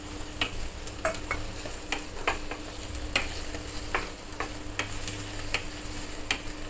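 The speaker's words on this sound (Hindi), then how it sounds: "दो तीन मिनट इनको चलाएंगे ऐसे" Mixed vegetables and green peas are stirred in a hot pan, with a steady sizzle under repeated scraping and clicking strokes of a spoon against the metal, close and fairly loud, with no voices.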